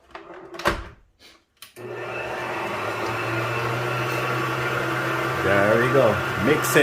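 After a couple of clunks, an electric mixer starts and whirs steadily through eggs for a cheesecake filling, a loud continuous motor drone with the pitch shifting slightly near the end as a person talks over it.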